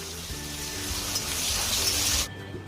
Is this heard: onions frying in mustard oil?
yes